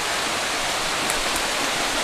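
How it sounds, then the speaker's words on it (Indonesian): Heavy rain pours down near a small house at the edge of a forest, a dense, unbroken hiss of water that stays loud and constant throughout, with no voices. "Hujannya deras banget ke sana ya"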